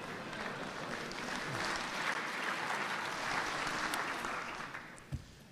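Applause from a conference audience at a farming union event, a broad, distant wash of clapping that swells and then fades away.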